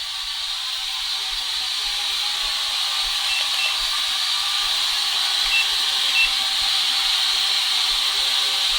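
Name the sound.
F181 quadcopter drone flying and hovering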